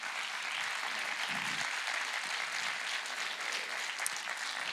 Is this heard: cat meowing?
no